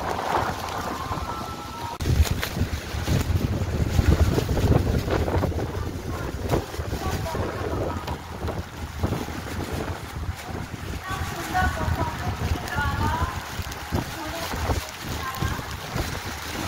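Strong wind gusts roar steadily past the microphone beside the river in Rishikesh on a rainy day, a broad continuous rush with surges, while a voice talks faintly underneath.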